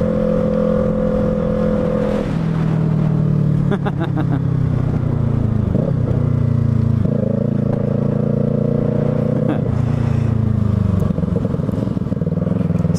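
A Yamaha YZF-R3 motorcycle engine drones steadily and loudly, its pitch dropping at a few gear shifts while riding, with faint talk underneath.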